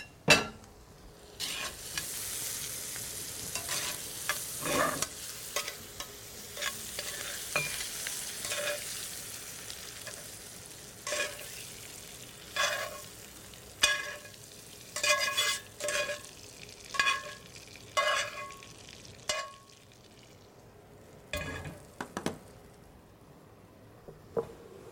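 Mushrooms sauté with garlic and thyme in a pan, a soft steady sizzle broken by repeated scraping and stirring strokes from tongs, close and moderately quiet, with no talking.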